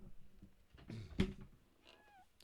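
A black cat lets out one short, fairly loud meow close by, followed by a faint, high rising-and-falling chirp in a quiet room.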